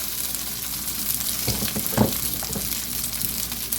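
Cooked rice crumbled into hot sesame oil for shrimp fried rice sizzles and crackles steadily up close, with a few stirring scrapes mixed into the constant frying hiss.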